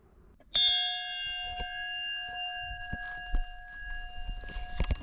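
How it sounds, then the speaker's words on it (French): A bell rings once on a trail in the Massif des Maures, Var, its bright metallic tone sharp at first then ringing out and fading slowly, with scattered footsteps and small knocks around it. "Il y a une cloche, hein, je vais demander."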